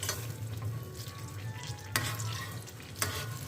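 Butter melting in a pan for a Turkish newspaper dessert (gazete tatlısı), giving a steady soft sizzle with stirring scrapes and a couple of sharp clinks, under a low hum, with no talking.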